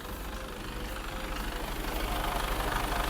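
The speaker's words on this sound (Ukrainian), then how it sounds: "звучить у нас двигун і як він працює рівненько" A 2015 Mercedes Actros truck's 12.8-litre diesel engine idles steadily up close, a low rumbling drone with a rough, even knock that grows slightly louder.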